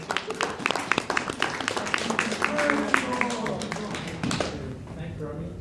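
Audience at a convention panel giving a round of applause, scattered claps under chatter and voices, fading out near the end.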